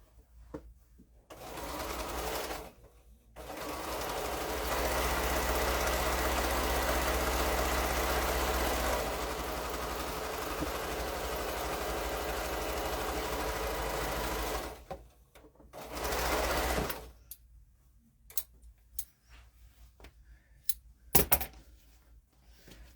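Sewing machine stitching layered quilt fabric, a steady continuous motor whir running for about twelve seconds, then a shorter burst of stitching, with quiet handling clicks before and after.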